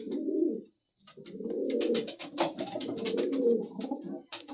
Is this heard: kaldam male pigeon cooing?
yes